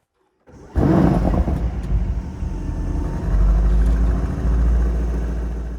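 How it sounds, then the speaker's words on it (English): A Mercedes-AMG S63 E V8 fires up in emotion start mode: a sudden loud crank and roaring flare of revs, then a deep, throaty idle that swells again before settling, up close. "Which wakes up our glorious V8, and it sounds rather good."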